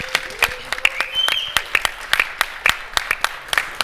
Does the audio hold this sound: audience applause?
yes